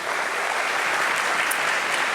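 Steady, dense applause from a crowd, even and sustained throughout with no voices standing out.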